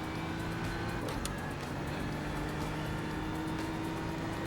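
A GT3 race car in the iRacing sim laps Sonoma with a steady, loud engine drone and continuous tyre and road noise, without any pauses.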